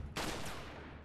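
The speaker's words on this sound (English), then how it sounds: "He shot that painting in the head." A single sharp gunshot in the Resident Evil 4 video game cracks out loudly and then rings off into a fading reverberant tail.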